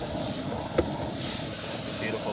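Fiddleheads dropped into hot browned butter in a pan give a steady, moderate sizzling hiss that runs throughout, with a faint swell partway, while a person talks over it.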